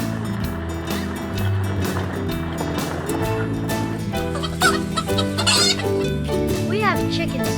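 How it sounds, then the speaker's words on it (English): Hens clucking in short bursts on a farm over a busy, steady background hum, with a brief higher squawk near the end. "We have chickens."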